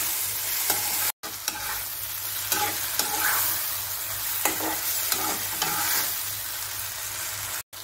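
Small paneer pieces being sautéed in a pan for jhunka paneer, a continuous loud sizzle with repeated scraping stirs, close by, with one brief cut-out near the start.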